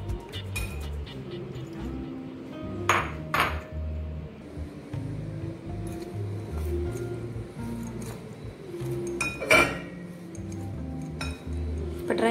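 Shredded cabbage tossed dry in a bowl for cabbage pakora, with scattered clinks and taps of a utensil against the bowl over soft rustling, close and moderate in level.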